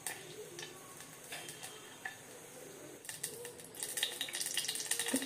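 Moraiyo (barnyard millet) being rinsed in water in a home kitchen: light clicks and soft trickling at first, then louder, busier swishing and splashing in the second half, with no talking.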